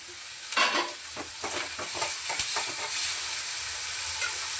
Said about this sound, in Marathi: आता हे कढीपत्ता आणि टमाटर दोन्ही एकत्र टाकून देते.